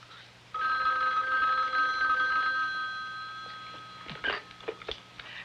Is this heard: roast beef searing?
no